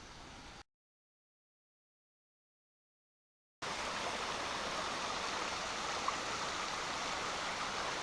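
Panther Creek, a wilderness mountain stream near its headwaters, flows with a steady close broadband rush after a short stretch of silence, with no voices.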